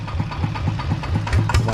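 A tractor engine idles nearby in the rain on sandy ground with a steady, knocking diesel chug, loud and continuous throughout.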